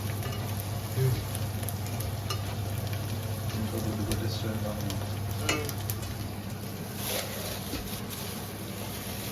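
Onions frying in a pan for chicken curry make a soft, steady sizzle and crackle at moderate distance, with occasional faint clicks of stirring and a low hum beneath.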